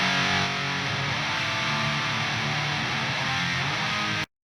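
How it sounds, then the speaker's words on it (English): Heavily distorted atmospheric black metal rhythm guitars playing a sustained, dense wall of sound that cuts off abruptly at the end. "Then we have the rhythm guitars."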